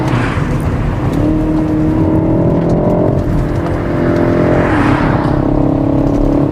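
A gruff BMW 128ti engine drones loudly and rises in pitch as it accelerates, easing off briefly before climbing again, with a rough rumbling tone throughout.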